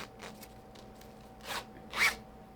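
A zipper on a knit bag is tugged in two short, scratchy pulls, quiet and close, the second slightly louder than the first.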